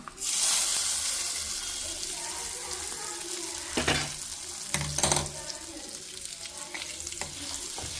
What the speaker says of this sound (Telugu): పోపు ఇందులో వేసేస్తున్నా